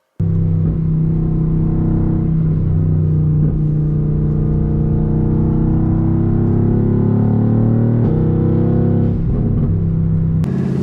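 A 670 hp Mercedes AMG GT R on the road, loud continuous engine drone heard from inside the car, with the pitch rising steadily as it accelerates and dipping briefly at gear changes.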